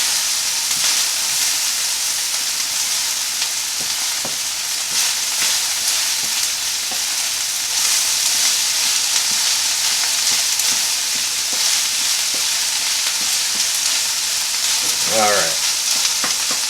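Ginger pork fries in its own leftover fat at the bottom of the pan, giving a steady, dense sizzle and hiss with occasional light stirring scrapes. The sizzle runs continuously and up close, with no talking.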